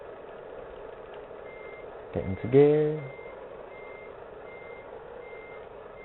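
Truck reversing beeps in Euro Truck Simulator, a short burst of a few rapid beeps near the middle over a steady idling lorry engine, with a voice talking briefly.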